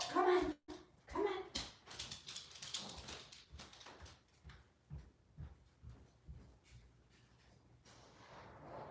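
A dog being let outside, with whimpers, yips and shuffling movement up close, a door-like thud early on, and a person briefly coaxing it.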